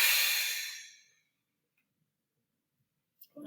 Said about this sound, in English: really let your breath exhale loudly